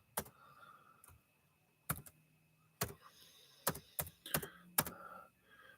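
Scattered key presses on a computer keyboard as an email address is typed, with sparse, uneven clicks and pauses between short clusters, fairly close and moderately loud, with no voice.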